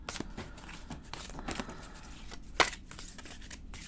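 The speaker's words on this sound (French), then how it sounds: "On va tirer une petite carte de l'oracle de Noël." A deck of Christmas oracle cards being shuffled by hand, with a series of soft, papery riffles and flicks, one sharper snap near the end, close and fairly quiet.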